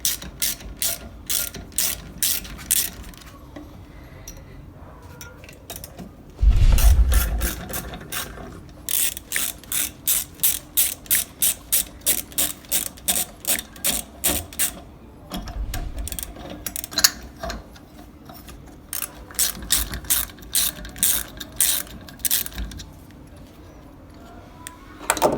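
Ratchet wrench loosening the nut and locknut on a turbo wastegate valve, giving rapid, repeated clicking bursts in several runs with short pauses and metallic handling in between, close and clear.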